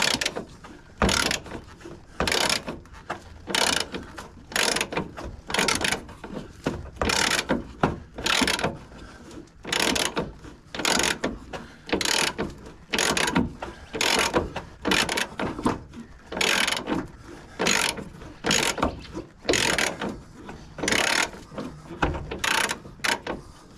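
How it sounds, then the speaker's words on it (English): A ratchet wrench works bolts on a VY ute swingarm during bush and bearing replacement, giving steady repeated bursts of loud clicking strokes, close up and unbroken by talk. "if you've only got a ratchet and you've got some way to heat it, you're alright with a ratchet"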